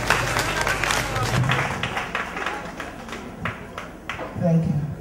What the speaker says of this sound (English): A round of applause for Veronica van der Kamp.